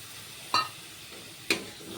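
Spiny gourd frying in a pan as milk is poured in, a soft steady sizzle with two sharp scraping stirs about a second apart, close and clear.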